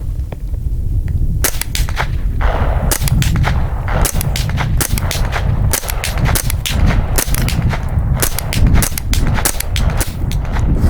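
A Winchester Wildcat SR .22LR rifle fired outdoors in a rapid series of sharp, loud cracks, shots coming in quick irregular bursts over steady background noise.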